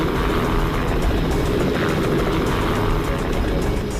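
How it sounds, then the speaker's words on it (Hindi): Loud, steady rotor and engine roar of a flying helicopter, close and continuous with a dense rumbling texture and no talk. "यकीन नहीं हो रहा वो हेलीकॉप्टर में है।"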